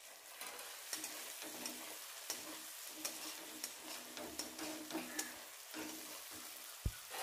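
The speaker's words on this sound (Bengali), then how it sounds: "এরপরে ভালোভাবে নাড়াচাড়া করে নেব প্রায় 3 মিনিটের মতো।" Eggs fried earlier are being stirred into a poppy seed (posto) masala in a pan, giving a soft steady sizzle with repeated light scraping and clinking of the spoon at a regular rhythm, close and fairly quiet, with no talk.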